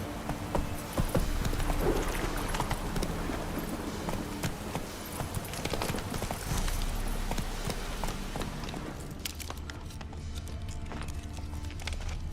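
Roach the horse galloping in The Witcher 3, a steady rapid clatter of hooves over a broad rumbling wash of ambient noise, continuous and fairly loud throughout.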